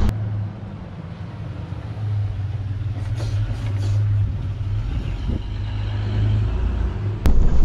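A first-generation Ford Explorer driving along a road, heard from inside as a steady low engine and road rumble with a few faint knocks and a sharp click near the end.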